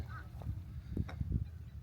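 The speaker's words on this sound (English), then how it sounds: "I just startled some ducks." Several loud honking duck calls burst out in quick succession against a low outdoor rumble at Lake Toho, close by and startled-sounding.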